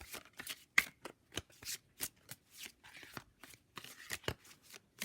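A deck of chakra oracle cards being shuffled by hand, a quick run of soft riffling flicks and slaps, close and fairly quiet, continuing steadily without pause.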